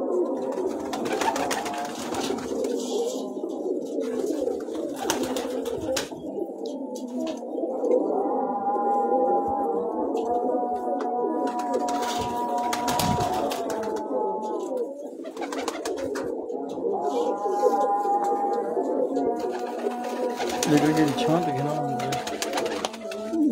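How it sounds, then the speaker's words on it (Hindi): Large Pipla-breed pigeon cooing on a rooftop, steady repeated coos at close range with someone talking over much of it. "पिपला ब्रीड का बड़ा पीपट सिकंदर भाई का"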